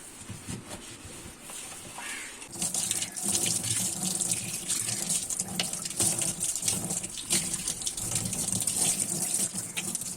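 A tap gushes steadily into a kitchen sink, a loud hissing splash that starts after a short quieter moment and keeps running.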